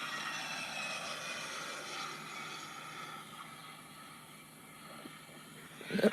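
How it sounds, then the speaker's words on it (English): An Allegiant Airbus A319 airliner departs, its jet engines a faint, distant, steady roar, with a brief louder rustle at the very end. "A319 departure."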